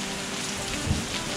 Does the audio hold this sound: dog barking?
no